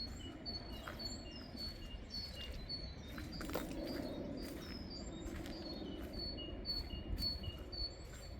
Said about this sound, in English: Just listen to the birds singing as we walk down this path.